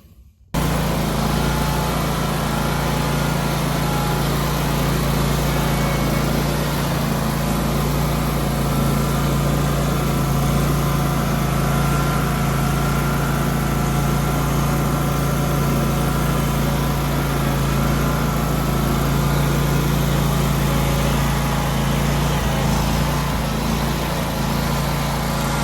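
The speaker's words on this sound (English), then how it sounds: "let's get mowing" A lawn mower runs steadily while mowing a Bermuda grass yard, its engine drone loud, close and unbroken for the whole stretch, with no voices.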